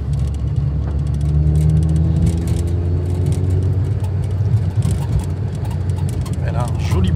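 A Peugeot car's engine runs while driving, giving a steady, loud low rumble with a smooth droning hum that holds evenly throughout.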